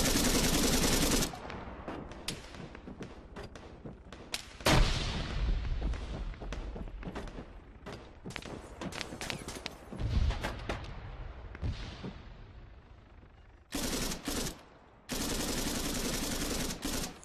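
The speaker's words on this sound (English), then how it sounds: "There's lots of enemy outside, taking fire from multiple positions." Gunfire in the video game Arma 3 during a king of the hill assault, with dense automatic bursts and heavy shots from multiple positions cracking loudly, pausing, then returning in sustained rapid volleys.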